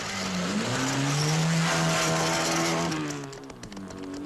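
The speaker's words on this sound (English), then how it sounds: "And already the first car is screaming towards the summit." A Triumph rally car with a failing rear tire at the 1958 Alpine Rally screams up a mountain climb, its loud engine note rising through the gears before fading as it pulls away.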